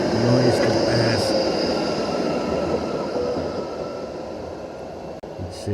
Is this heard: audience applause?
no